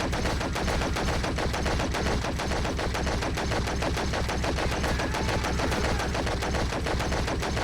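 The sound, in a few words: light machine gun fire in the video game Stranglehold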